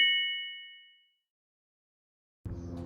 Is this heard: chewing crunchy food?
no